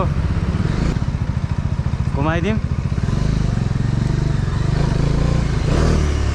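A Bajaj Dominar 400 motorcycle, 400 cc, on a test ride, its engine thrumming low and close with rising revs and a brief whine, while the rider talks over it.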